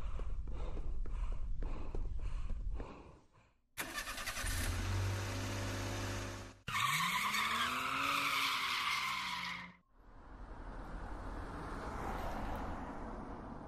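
In a Fortnite horror map, a car engine revs and tyres screech in a long skid: a loud, close run of shifting engine roar and squealing scrapes, following a stretch of rhythmic thumping and ending in a rushing hiss, with no voices.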